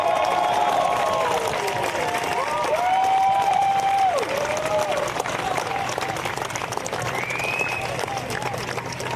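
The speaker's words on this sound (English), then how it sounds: "I want you to give a big, big cheer for our champion this year, Hannah Green" A crowd around the 18th green at Sentosa applauds and cheers the champion of the HSBC Women's World Championship, golf's final round; sustained clapping runs throughout, mixed with tonal shouts and voices.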